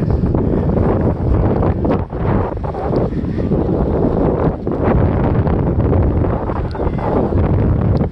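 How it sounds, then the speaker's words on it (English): Strong gusty wind roars continuously across the microphone at an outdoor kite festival, loud and buffeting with no voices. "There's the wind. Wind AF today."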